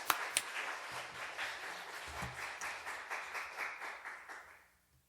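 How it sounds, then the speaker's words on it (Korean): Church congregation applauding during a Christmas thanksgiving service, a steady patter of many hands clapping at moderate distance that fades out toward the end. "박수 하나님께 영광 올리겠습니다."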